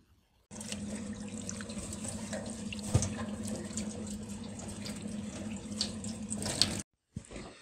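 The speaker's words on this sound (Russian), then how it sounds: "помыть под холодной водой, ну вернее смыть вот эти вот остатки пряной смеси" Cold tap water runs steadily over a salmon fillet as spice mix is rinsed off in a kitchen sink, a continuous splashing rush that stops abruptly near the end, followed by a brief trickle.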